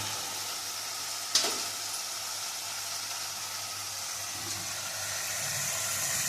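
Sesame and poppy seed paste sizzles steadily in a frying pan while an eggplant dish, begun sundori, is being cooked, with one sharp utensil clink early on and a soft stirring sound later.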